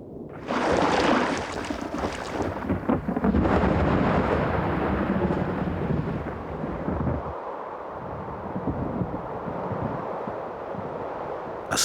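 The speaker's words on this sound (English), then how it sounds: "A storm is brooding up across the water." A thunderstorm builds over the open ocean, a long, loud rolling rumble of thunder that swells early and gradually subsides into a steady low roar of wind and weather.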